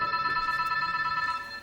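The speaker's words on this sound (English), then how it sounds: "But for Lana, a phone call soon knocks her schedule into a spin." Telephone ringing with a bright, continuous electronic bell tone, loud and close, held steadily before it begins to fade.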